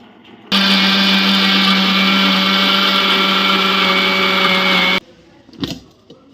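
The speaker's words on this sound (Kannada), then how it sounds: "ಮಸಾಲೆ ಎಲ್ಲ ಹಾಕಿ ಇದನ್ನ ಮಿಕ್ಸಿಗೆ ಹಾಕಿ ಒಗ್ಗರಣೆ ಕೊಡಬೇಕು" A kitchen mixer grinder whirs loud and steady for about four and a half seconds as it grinds fried sambar masala, then cuts off, leaving quiet room sounds.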